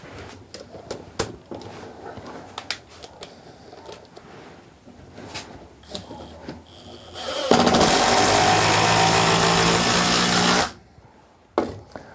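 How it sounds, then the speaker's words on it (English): A Makita impact driver with impact-rated bits drives a lag screw into wood, a loud continuous rattling hammer lasting about three seconds after scattered handling clatter, then cutting off abruptly, close up and without speech. "So that should help for driving the lag screws."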